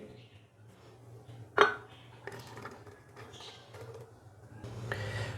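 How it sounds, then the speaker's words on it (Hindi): Finely chopped raw mango pieces tipped into a mixer jar in a home kitchen, giving one sharp clattering knock followed by quieter rustling and shuffling, with a steady hum in the background. "मिक्सी जार के अंदर हम बारीक कट किए हुए आम डालेंगे।"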